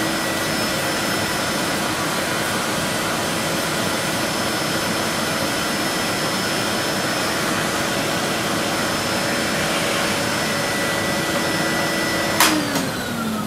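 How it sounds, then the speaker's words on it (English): A vacuum cleaner runs close and loud while cleaning the inside of an 800 MHz eMac computer, a steady whining roar that continues unbroken before a short clunk near the end. "One last little vacuum."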